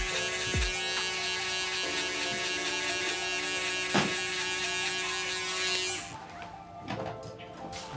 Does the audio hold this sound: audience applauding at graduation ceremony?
no